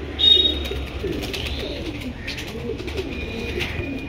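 Small Pakistani pigeons in a loft give soft, low, repeated coos, with a faint higher bird note on top, close and steady over a quiet room.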